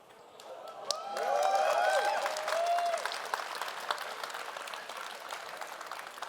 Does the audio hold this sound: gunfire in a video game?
no